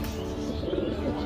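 A pigeon gives a brief, low, throaty coo, close by and fairly clear, lasting only about a second.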